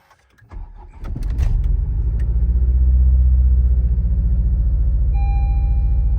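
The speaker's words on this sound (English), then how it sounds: "Misfire cylinder 3." A tenth-generation Honda Civic Si engine cold-starts after sitting a week and settles into a loud, rough, uneven idle, with a lumpy rhythmic misfire on cylinder 3 and a faint high whine near the end.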